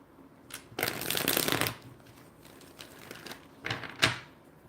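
A deck of tarot cards is shuffled by hand, with one long papery riffle burst followed by a few shorter shuffles and taps, close and alone.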